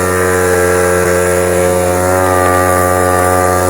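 A 2005 Gilera Runner 50 scooter climbs a hill with its engine warning light on, the small two-stroke motor droning loud and steady close by with a buzzy, unbroken tone.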